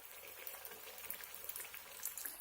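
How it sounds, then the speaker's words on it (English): Paneer pakora fritters deep frying in medium-hot oil, giving a steady, close, quiet hiss and crackle with small irregular pops throughout. "Fry them on a medium hot oil."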